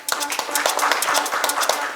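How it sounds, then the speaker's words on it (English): Audience applause for a speaker at an education panel event, with scattered hand claps forming a steady, moderately loud round of clapping over about two seconds, some voices mixed in. "A big round of applause, please."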